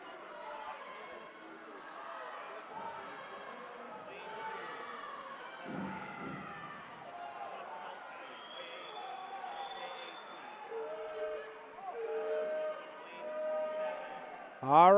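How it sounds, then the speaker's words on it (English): A crowd at a university invitational swimming meet cheers and chatters in an echoing natatorium, swelling gradually toward the end, with a whistle-like tone near the close. "You can hear the crowd getting into it."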